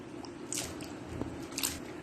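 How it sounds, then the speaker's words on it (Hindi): Cut potato chips are swished and squished by hand in a bowl of water, giving soft wet sloshes and a few small drips, close and fairly quiet. "अब हम अपनी चिप्स को इसके अंदर अच्छी तरह धोएंगे।"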